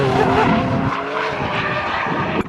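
A big-turbo BMW E46 M3 drifts at high speed, a loud sustained roar of engine and screeching tires close by, with no talk.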